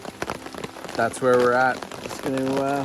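Steady rain patters on a tarp at a campsite in Rondeau Provincial Park, a soft constant hiss and drip beneath someone talking close up.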